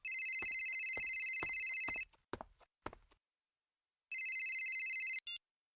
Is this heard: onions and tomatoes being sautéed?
no